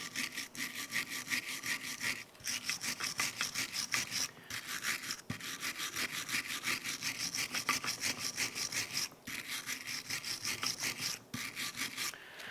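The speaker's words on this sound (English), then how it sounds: "We're going to use our bristle brush here to go ahead and clean where the slide brackets are going to go" A stiff bristle brush scrubs the rear brake bracket area of a 2006-2011 Cadillac DTS, producing rapid, rhythmic back-and-forth rasping strokes up close, with short pauses between bursts and no talking.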